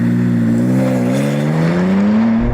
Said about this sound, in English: I've timed a normal M4 competition, did 0 to 60 this quickly